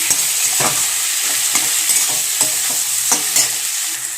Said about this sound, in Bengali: টমেটোটাকে ভাজতে থাকি।